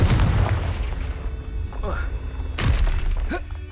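A Confringo fire spell blast in the Hogwarts Legacy video game goes off as a loud, booming burst with a thudding impact, followed by a second explosive hit a moment later over a rumbling low background.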